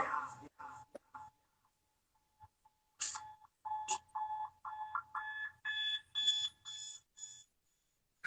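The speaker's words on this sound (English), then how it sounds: "I used to have that alarm clock, bro." An alarm clock rings in repeated electronic beeping bursts, loud and close, with gaps between groups of beeps and brief voices early on.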